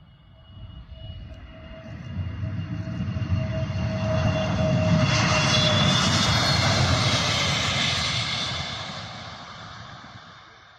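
Airbus jet aircraft performing a minimum unstick speed takeoff test with an intentional tail strike, engine roar swelling from a distance to a loud broadband peak and then fading, with no voices.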